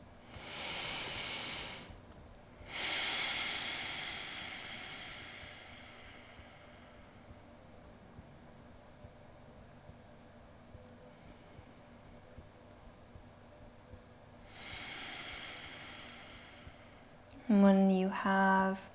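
Slow deep yoga breaths in a held pose, heard as long airy hisses: two close together at the start and another after a long quiet gap, followed by a brief voice at the end.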